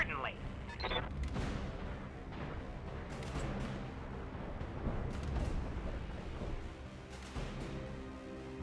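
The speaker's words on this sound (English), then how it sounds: "the machine guns have a chance at hitting. I mean, I might as well fire them." Weapon fire from mechs in the BattleTech video game, with a series of booming gunshot bursts and rumbling impacts at a moderate distance while a voice talks.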